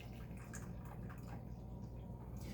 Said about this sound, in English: we are pouring ourselves the coffee